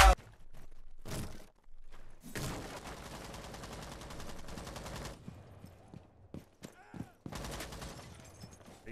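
Rainbow Six Siege gunfire bursts out in sharp, close volleys, including a sustained automatic spray lasting a few seconds, between short pauses and scattered single shots.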